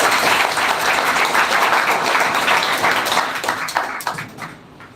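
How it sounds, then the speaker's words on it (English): An audience breaks into loud, dense applause to welcome a guest onto the stage, the clapping sustained before tapering and fading toward the end. "So please make a crowd for one and only Mr. Sanjeet Kumar Singh."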